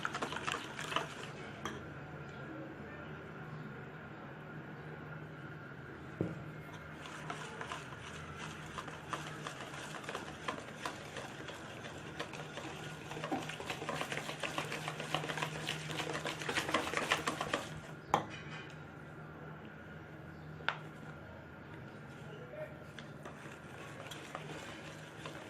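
Flour is stirred a little at a time into a homemade yogurt cake batter, giving a steady, faint scraping and tapping from the bowl that runs on for a long stretch and ends with a slightly louder knock, with no talking.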